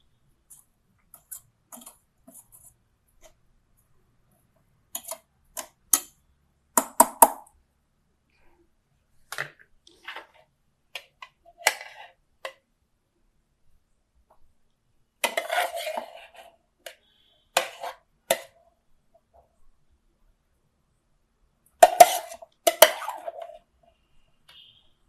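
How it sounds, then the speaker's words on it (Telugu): A spoon stirs gongura leaves in a pan, producing sparse, scattered metallic scrapes and clinks separated by long silences, close and fairly quiet. "ఇప్పుడు మళ్ళీ తిప్పుతాను."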